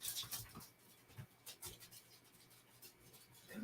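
Dogs whimper and pant softly at a dried-up lake, faint intermittent whines and breaths with scattered small noises, no talking.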